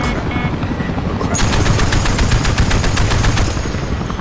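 Rapid automatic gunfire in the Battlefield Play4Free video game, loud and close, with bursts of shots rattling quickly over a constant battle rumble.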